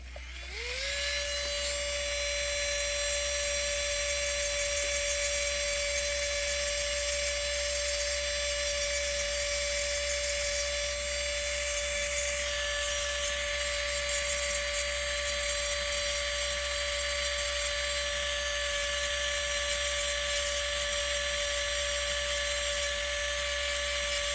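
A high-pitched electric nail drill whines continuously and steadily as its bit cleans material from under a fingernail during a gel polish manicure, with a constant low hum beneath and no talking.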